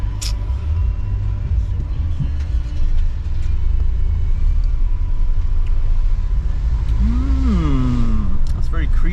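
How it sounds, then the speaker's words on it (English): A car crawls along in a traffic jam, its engine a low steady rumble heard from inside the cabin, with a brief rising whine near the end. "so we're stuck in the traffic jam"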